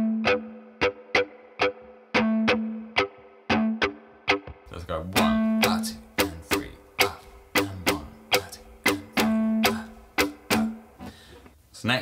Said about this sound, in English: The rhythm without any notes sounds like this.